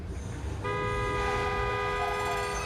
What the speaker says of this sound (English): The tram, Billy, mind the tram!